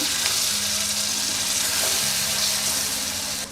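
Ground spices fry in hot oil in a pan as a little water is poured in, giving a loud, steady sizzle with soft bubbling and stirring throughout.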